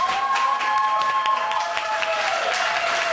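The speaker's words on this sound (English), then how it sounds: "Please give him a big round of applause" Scattered applause from a small audience at a library poetry reading. Light, thin claps sit under a faint steady electronic whine, with no talking.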